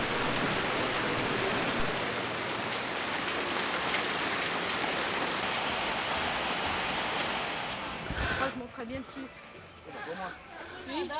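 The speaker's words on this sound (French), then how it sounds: "La pluie est fréquente" Rain falls in Ecuador as a dense, steady hiss of drops spattering on surfaces. The wash thins near the end, when a voice comes in.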